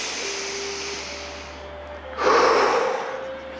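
A single deep inhalation during a guided sophrology relaxation session for pain relief, a soft, close airy breath that swells for about a second over a faint steady background tone, with no talking.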